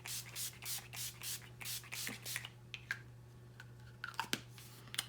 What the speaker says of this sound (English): I'm gonna do one final spray with my Urban Decay All-Nighter.